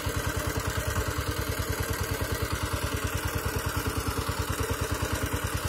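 A Kentavr walk-behind tractor engine chugs steadily while plowing mustard under in a field, a rapid even thumping putter held at constant speed, close and continuous, with no voices.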